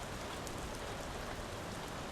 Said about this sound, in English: it's like a little rainy setting